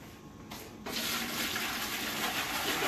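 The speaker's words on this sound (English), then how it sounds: "If you don't think you got a good splash, if you're not happy with your splash action, you can do it one more time." Homebrew beer wort being poured back and forth between vessels to aerate it, a loud continuous splashing gush that surges in after a quieter start and keeps rushing steadily.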